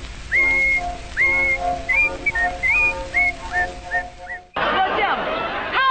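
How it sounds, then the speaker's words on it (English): Someone whistles a bright, bouncy melody in short phrases over a light instrumental backing, until a burst of busier music cuts in. "he's happy when he whistles this tune"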